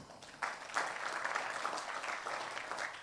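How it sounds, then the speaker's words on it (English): An audience at an innovation festival pitch competition claps for the judges, a moderate burst of many hands that swells in and holds steady, fairly soft and without speech. "Can we clap for them?"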